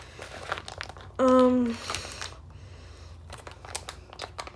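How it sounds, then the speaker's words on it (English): Crinkling and crumpling of plastic bacon packaging being opened up close, with a brief tonal squeak and scattered rustles. "you take your bacon, you're going to open it"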